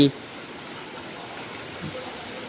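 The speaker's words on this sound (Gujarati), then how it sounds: "જોઈ શકો છો તમે આ કંઈક પાણી અહીંયા પડી રહ્યું છે તો આ પાણી પડે છે" Rainwater from a flood pours steadily into a house in Mahuva, Bhavnagar, as a faint continuous splashing wash that stays even throughout after a brief louder onset.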